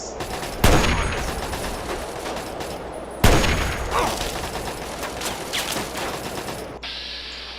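Machine gun fire in Fallout 3, two heavy bursts each opening with a loud blast and trailing into rattling, echoing fire before the sound cuts to a quiet hum.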